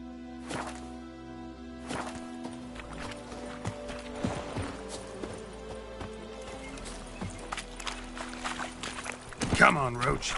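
Geralt's horse Roach in The Witcher clops along with soft hoofbeats under game music, while voices talk over the top and a louder burst comes near the end.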